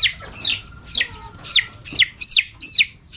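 A Satria Sinekti hen, a young chicken with Dalmatian-like spotted wings, gives a run of short clucks that grow more frequent toward the end, close and fairly clear over a low background rumble.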